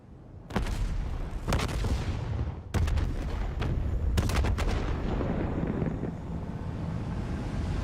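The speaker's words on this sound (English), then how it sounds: "Hendricks, we have multiple explosions across the facility" Call of Duty Black Ops 3 battle sounds: several sharp gunshot and explosion cracks burst out at irregular intervals over a continuous rumbling din of fire and roaring engines, loud and close.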